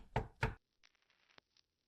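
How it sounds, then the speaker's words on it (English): Two heavy thumping knocks on a door in the video game Lovely Lady RPG, loud and close, followed by a stretch of faint, scattered small sounds. "The thumping on the door continues."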